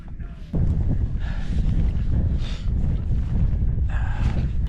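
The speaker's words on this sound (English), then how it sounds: "It is quite windy up here." Strong, continuous wind noise roars against the microphone on high ground in Iceland, jumping louder after a brief quieter start and staying steady.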